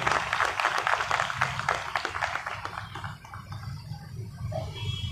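Applause from an audience at a Marathi ceremony marking Dr. Babasaheb Ambedkar's birth anniversary: steady clapping of moderate loudness that continues throughout and softens slightly partway through.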